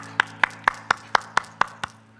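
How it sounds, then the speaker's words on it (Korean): Clapping during a Wednesday church service: eight crisp, evenly spaced claps in a steady rhythm, moderately close and clear against a quiet background hum, fading slightly at the end. "우리 하나님께 감사와 영광의 박수를 드리겠습니다."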